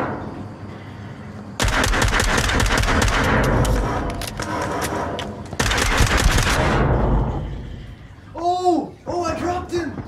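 Pistol-only gunfire in the VR shooter Onward: two dense, loud bursts of rapid shots, each lasting a few seconds, then a player's voice speaking over quieter game sound.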